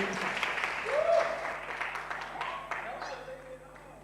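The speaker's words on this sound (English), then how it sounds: "Can you give her a big round of applause as she comes?" Audience applause at a university entrepreneurship competition's regional round fills the room as a broad patter of clapping, mixed under a presenter's voice and slowly fading.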